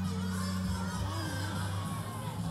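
Parents, teachers and children cheer and shout at a kids' school race held under shady trees, a dense, continuous crowd roar with scattered whoops under a steady background hum.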